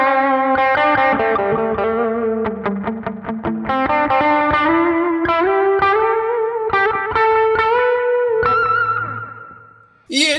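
Electric guitar run through an Ampero One with a Tube Screamer, delay and reverb plays a loud, distorted melodic line of quick picked notes, then rings out on a sustained note that fades with echo.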